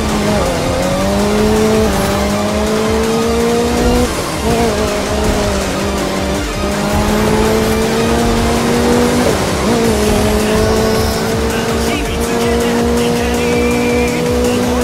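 European race car in The Crew 2 roaring at high revs, engine pitch climbing and dropping through gear changes with tire squeal, loud and close throughout.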